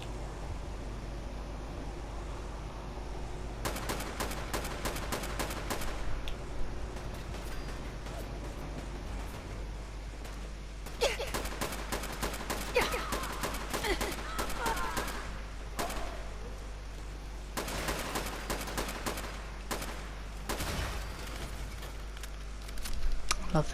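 Player's gun in Fallout 4 fires repeatedly in the Nuka World outskirts, several loud bursts of rapid gunfire separated by short pauses over steady game ambience.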